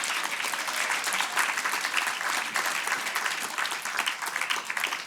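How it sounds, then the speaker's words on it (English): Loud, dense clapping from an awards ceremony audience, continuous and even for the whole stretch with no voices over it. "Should we just clap a bit louder"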